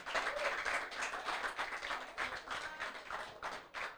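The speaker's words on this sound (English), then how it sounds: "give yourselves a round of applause" Cricket players at a T10 tournament honours day giving themselves a round of applause, a steady patter of many hands clapping at moderate distance, with no voices over it.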